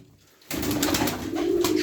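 Pigeons coo in a close, steady murmur that starts abruptly and carries on without a break.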